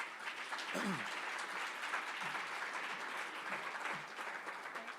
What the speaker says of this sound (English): Just give him the last big round of applause